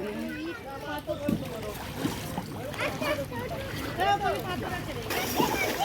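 People dipping and bathing in the Ganges during a holy bath, with water sloshing and splashing nearby under continuous voices and chatter from the crowd.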